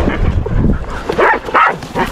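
Herding dogs bark and yip in loud, close bursts while cattle are roped by a river, with several sharp calls in quick succession and no talking over them.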